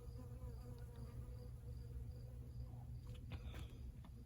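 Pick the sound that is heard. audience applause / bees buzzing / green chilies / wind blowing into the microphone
bees buzzing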